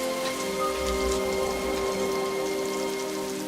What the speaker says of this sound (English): I wish the rain would stop just once.